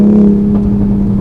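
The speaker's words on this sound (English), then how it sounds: "Oh, there's some gurgles on the exhaust" A 2020 Toyota GR Supra Launch Edition's turbo engine hums steadily at around 3,000 RPM in fourth gear while driving, a loud, close, continuous drone with a faint exhaust burble.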